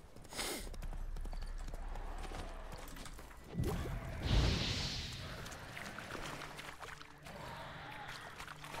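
Rapid hoofbeats of a galloping horse pound along under ambient game noise in The Witcher 3, with a brief louder rush midway.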